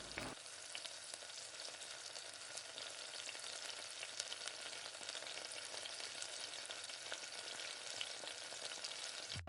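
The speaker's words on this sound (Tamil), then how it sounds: "இப்போ நான் எல்லா சிக்கனையுமே பொரிச்சிட்டு உங்கள்கிட்ட காட்டுறேன்" Chicken pieces frying in oil for chilli chicken give off a steady, even hiss and crackle that runs unbroken throughout, fairly quiet and with no talking.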